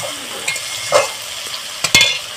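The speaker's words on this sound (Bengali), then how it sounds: "দেখুন আবারও আমি ভেজে নেব।" Onions fry in fish oil for a bhetki fish head curry, crackling loudly and close, with a few spoon scrapes and clinks over the steady sizzle. There is no speech.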